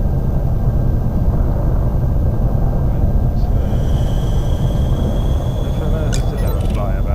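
Spaceship thrusters in Elite Dangerous roar as a steady low rumbling drone, loud and continuous, with a faint higher whine entering partway and a voice talking over it.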